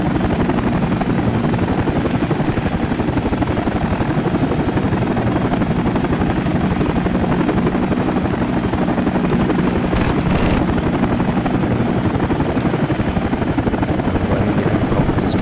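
Helicopter rotors and engines drone loudly and continuously in the Air Missions Hind flight simulator game, a dense steady roar with a pulsing chop from the Hind cockpit, a voice faintly mixed in.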